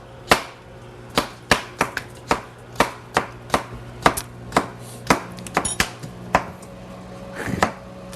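A knife chops food against a board in fast, sharp, evenly spaced strikes, about a dozen loud close hits over several seconds, with no talk.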